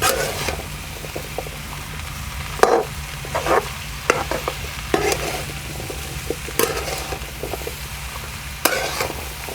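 Pumpkin being stirred with spice masala in a pan for a traditional village-style bhopla sabzi, giving a steady low sizzle broken by repeated scraping strokes of a spoon, close up with no talking.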